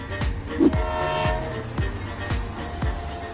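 A train rolls past a level crossing, with a loud sustained horn blast over rhythmic, evenly spaced clacks of wheels crossing rail joints, close and continuous throughout.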